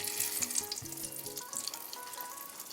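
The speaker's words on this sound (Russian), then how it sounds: "тесто картофельное, поэтому обжаривается все очень быстро" Potato-dough khachapuri flatbread sizzles steadily in hot oil in a pan, a close, continuous crackling fry with small pops and a faint background tone.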